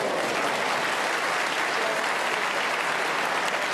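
A World Snooker Championship semi-final audience applauds a shot, steady loud clapping from a full arena that holds constant throughout with no voices over it.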